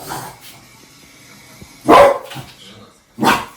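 Two short, loud dog barks ring out close by, spaced about a second apart, with quiet background between them.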